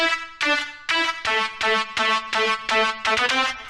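A bright Dynasty synth lead patch for Arabic trap plays a rhythmic melody of short, evenly spaced staccato notes, loud and alone, with a quick run near the end.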